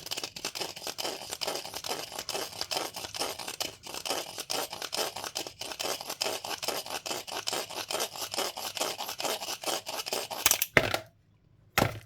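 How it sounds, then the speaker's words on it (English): A deburring tool scrapes rhythmically along the edge of a bronze coin ring made from a 1921 Australian half penny, a close, rapid stream of rasping strokes that stops abruptly near the end. "This is Christy Burr, my deburring tool."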